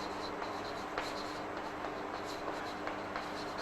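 Steady scratching of writing on a board in a classroom matrices lesson, with repeated light strokes and taps over a constant background hiss, fairly close and without talk.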